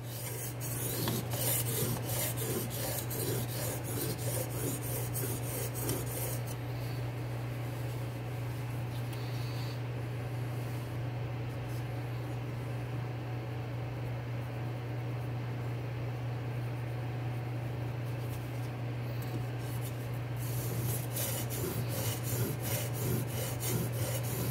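A knife blade rasps across a King whetstone bench stone on a flat table, held at angle by a DMT aligner guide. Continuous close scraping strokes run with a steady low hum beneath, easing slightly midway before picking up again.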